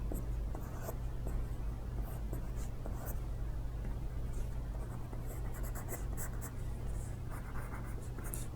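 Pencil scratching and sketching across paper as an animal face and fur are drawn in pop-art style, steady close strokes with brief lifts, alone over a low constant hum.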